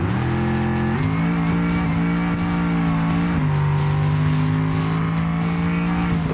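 Moonhawk muscle car from BeamNG accelerating hard with nitrous on a drag run across a bridge, a loud steady engine drone climbing in pitch through gear changes, close and continuous with no talking.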